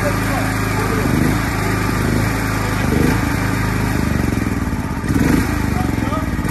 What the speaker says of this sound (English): So by rope also you can start the